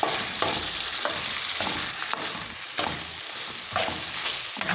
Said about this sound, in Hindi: मैं इसको अच्छे तरीके से भून लेती हूँ।